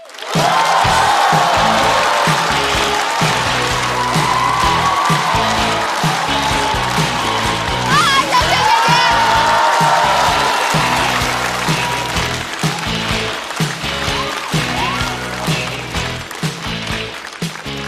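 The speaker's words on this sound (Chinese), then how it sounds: "掌声欢迎小雪" A stand-up comedy audience claps and cheers loudly and continuously to welcome a female comedian onstage, with whoops mixed in, and the applause fades slightly toward the end.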